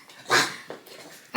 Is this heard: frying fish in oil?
no